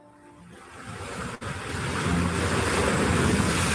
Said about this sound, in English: Above it all, polar winds never stop, shaping snow into frozen waves